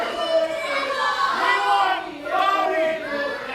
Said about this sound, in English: Bronze Bull taking exception to people in the crowd calling him a sidekick